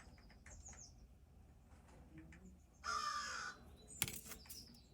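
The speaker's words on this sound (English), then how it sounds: "You guys hear the crow?" A crow gives a single harsh, fairly close caw outdoors, followed by a brief sharp click, over faint background birdsong and low ambient noise.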